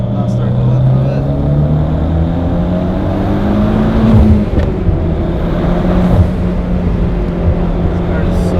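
A 2008 Mitsubishi Evo X running E85 accelerates hard through second gear, the engine note climbing steadily in pitch, loud and close from inside the cabin with a continuous droning roar.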